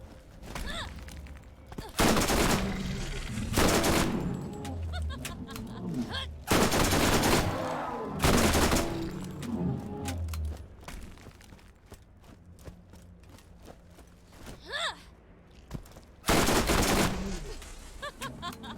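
Gunfire in the Borderlands GOTY Enhanced Edition video game: several loud bursts of shots separated by quieter stretches of game ambience, with a few fainter sharp cracks scattered between the volleys.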